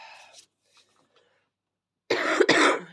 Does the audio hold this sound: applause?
no